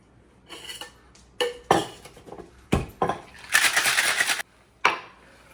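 Cocktail shaker rattling with ice, lemon juice and simple syrup, in bursts of clattering shakes broken by short pauses, one long sustained rattle near the end, close and fairly loud.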